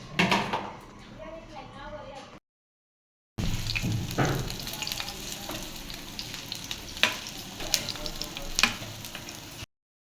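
Lentil fritters (dal bora) frying in hot oil, a close, busy sizzle with crackles and stirring clatter, broken by a brief silent gap, with a voice talking over the start.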